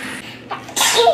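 A single sharp sneeze bursts out near the end after a short intake of breath, close and loud.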